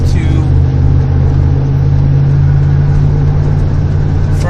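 Steady car cabin drone while driving north on the I-5 highway in Oregon, a constant low engine and road hum with no breaks, heard from inside the vehicle.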